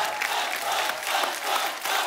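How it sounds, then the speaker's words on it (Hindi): A studio audience on The Kapil Sharma Show applauding and cheering loudly, dense clapping with whoops rising and falling over a couple of seconds. "जोरदार तालियां"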